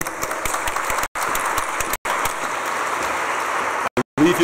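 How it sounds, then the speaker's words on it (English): A conference keynote audience applauding steadily, dense broadband clapping that fills the space, with a few brief dropouts where the sound cuts out. "we'll give a warm round of applause to Joe and welcome"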